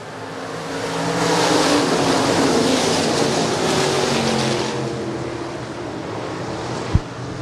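Stock cars at Shelby County Speedway rev up for the green flag, a rising engine drone heard at a distance beneath heavy rushing wind, with one sharp thump near the end.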